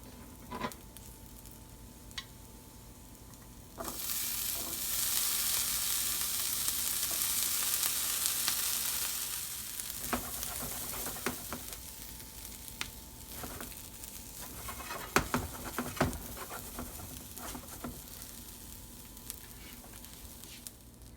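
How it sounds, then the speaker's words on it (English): Onions and peppers fry in a pan with a soft, steady sizzle that rises to a louder hiss for several seconds, then settles back. Scattered clicks and scrapes of stirring follow, with no voices. "The onions start turning color and they look like they're getting cooked nicely. We can add in the peppers."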